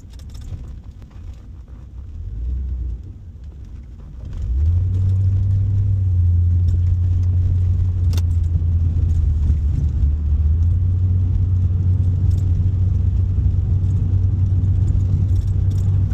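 A car passes by a partly frozen, thawing lake, starting with a low rumble that swells and settles into a steady, loud engine drone with a faint rattle, no talking.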